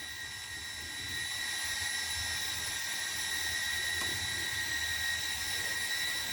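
Steady high-pitched whine of the small electric motors of a GD95 drone idling, with constant tonal bands and a low rumble, continuous and fairly close.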